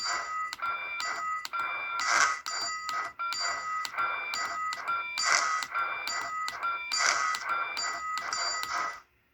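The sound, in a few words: model train sound module backup chuff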